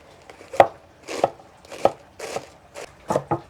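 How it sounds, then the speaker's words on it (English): A knife chops through a home-grown cabbage on a cutting board in six distinct, evenly spaced strokes, each a crisp close thud, with no talking. "All right, I'm going to start chopping."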